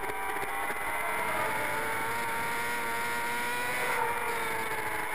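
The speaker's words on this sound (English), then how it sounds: "getting maximum drive out of the Suzuki GSX-R 600 onto the final straight" Suzuki GSX-R 600 racing motorcycle accelerating hard onto a final straight, a steady, loud, high-pitched engine howl that continues without break for several seconds, with no speech.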